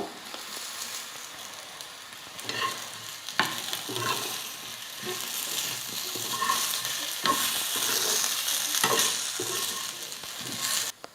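Coarsely ground spice powder and plantain pieces fry in oil for a plantain fry, with a soft continuous sizzle and repeated close scraping stirs.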